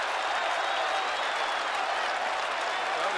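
An Australian football crowd at a 1983 Carlton match applauds a mark by Mark Maclure, a dense, even wash of clapping from a large stadium audience, steady and loud throughout.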